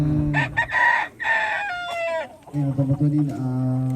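Rooster crowing loudly and close at a ceremony, two full cock-a-doodle-doo calls with a short gap between them, the second cut off near the end.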